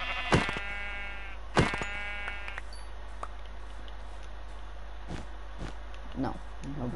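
Sheep bleating in Minecraft survival, two short clear bleats near the start followed by quieter scattered game sounds and soft thuds.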